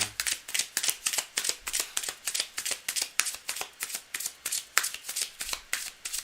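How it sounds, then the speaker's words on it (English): A deck of cards shuffled over and over during a live card-reading session, a quick steady run of crisp riffling bursts, close by with no talk. "I'm just going to shuffle up"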